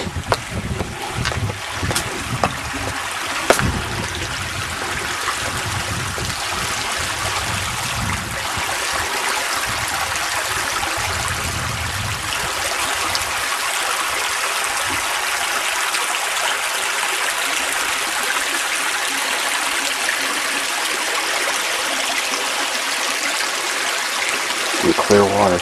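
Steady rushing of water through a small tributary stream along a trail in March, with wind buffeting the microphone and someone talking briefly near the start.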